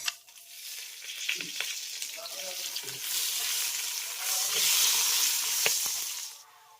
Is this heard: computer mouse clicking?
no